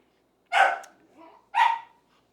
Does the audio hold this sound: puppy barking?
yes